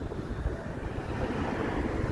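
Gusting wind buffets the microphone in a continuous low rumble, steady and close, with no talking, on a cold, windy Monday night walk in Toronto.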